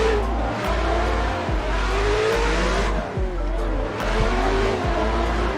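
Drift car engines from a sim racing game scream loudly in close, constant revving, with rapid gear shifts and pitch swings and a hint of tire squeal, and faint speech slips in beneath.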